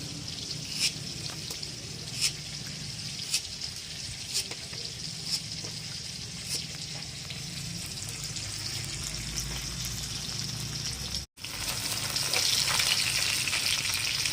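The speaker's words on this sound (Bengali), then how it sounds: "মাছের এক সাইড ভাজা হয়ে গেছে মাছটা উল্টে দেবো" Parshe fish sizzle steadily in hot oil, a constant close frying hiss with a few crisp pops, briefly cut off then resuming slightly louder.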